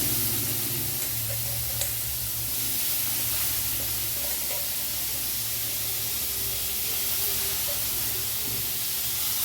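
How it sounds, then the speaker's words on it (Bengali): Salted, squeezed banana stem frying in a pan for a vegetarian ghonto, giving a steady, even sizzle and hiss that carries on throughout, close by with no speech. "ঠোঁটটা একটু ভালো করে ভাজতে হবে"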